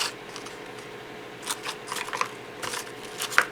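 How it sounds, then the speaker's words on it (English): Close, dry snips of scissors cutting sanding sponges into strips, several short cuts in an irregular rhythm, sharpest near the end, over a quiet room. "cutting sponges into strips"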